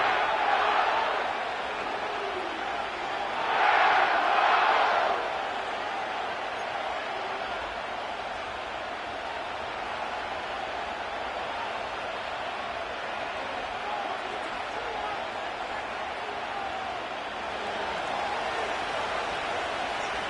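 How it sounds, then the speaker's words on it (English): Stadium crowd noise from an EA Sports Madden NFL game at SoFi Stadium in Inglewood, a steady broad roar with a brief louder swell, holding at a constant level throughout. "The crowd is definitely ready."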